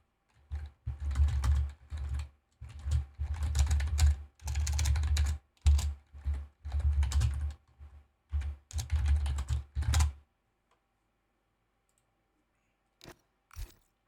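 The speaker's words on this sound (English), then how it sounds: "Sorry to everyone hearing the keyboard type." Computer keyboard typing during a sim racing stream, clicky keystrokes in dense bursts for about ten seconds, then quiet with a couple of isolated taps near the end.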